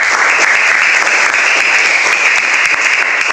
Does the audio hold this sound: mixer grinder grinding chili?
no